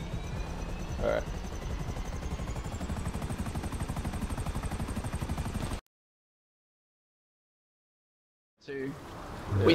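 A helicopter in the video game GTA 5 gives a steady, pulsing rotor drone for about six seconds. It then cuts to silence before game noise briefly returns.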